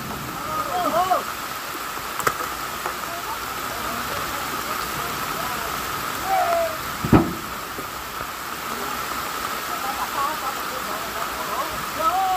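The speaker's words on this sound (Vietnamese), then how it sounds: "Đang mưa mà máy quay của mình ướt hết luôn rồi anh em ạ." Steady rain hisses down in a wet, muddy outdoor setting, a constant close wash of drops with occasional louder taps and faint voices in the background.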